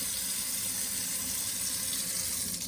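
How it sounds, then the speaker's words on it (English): Running water from a touchless Moen kitchen faucet streams steadily into the sink, a continuous close hiss with no talking. "And this is a touchless faucet."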